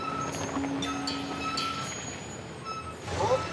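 A truck grinds up a narrow mountain road of hairpin bends above a ravine, its engine a continuous low rumble with faint high tones and a louder surge toward the end.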